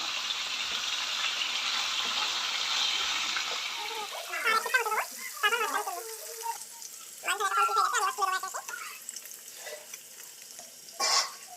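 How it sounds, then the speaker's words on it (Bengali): Fish pieces frying in oil make a loud, bubbling sizzle for the first few seconds. Talking then takes over while the frying carries on more quietly underneath. "আমি উল্টে নেব আস্তে আস্তে। দেখুন, এক পিসটা আমার ভাজা ভাজা হয়ে গেছে।"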